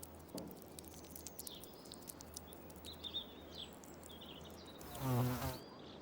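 Bees buzz around flowers, faint passing drones coming and going over a quiet outdoor background, with one louder, close flyby near the end.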